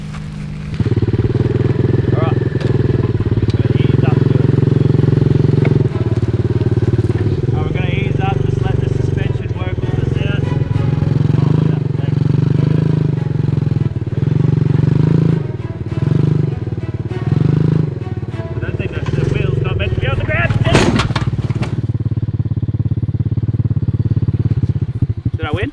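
A quad bike, a budget adventure ATV, drives one wheel up a ramp while the other stays on the ground, its engine droning loud and steady throughout with bumps and knocks, and a brief rev near the end.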